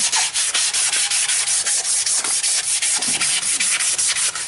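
Rosewood being hand sanded with flexible rubber-backed 220-grit 3M sandpaper: steady, loud rhythmic scratchy rubbing strokes, roughly four per second, close up with no talk.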